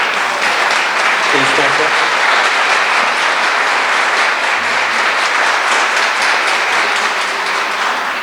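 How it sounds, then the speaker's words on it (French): At a closing ceremony, an audience claps for the organizers in loud, sustained applause that fills the whole stretch, with a brief spoken word over the clapping. "Oui, vous pouvez vous lever, on va vous applaudir."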